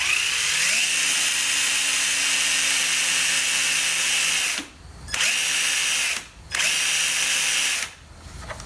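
A brushed-motor power tool revs steadily at high speed in its high gear, a loud continuous whine with rising pitch at the start, cut by three brief dips where the trigger is released and the motor slows before spinning back up.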